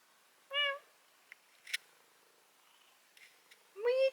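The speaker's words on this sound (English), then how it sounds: "My cat Bullwinkle is also here." A domestic cat meows twice, a short clear meow near the start and another at the end, with soft indoor rustles and faint clicks in between.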